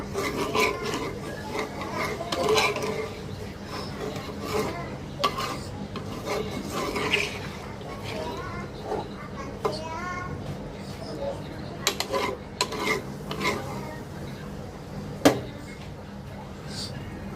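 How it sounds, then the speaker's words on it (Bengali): Chicken curry is stirred in a pot after hot water goes in, giving intermittent scraping and rubbing strokes with a few sharp clinks, under quiet voices and children talking in the background. "নেড়ে চেড়ে দিব"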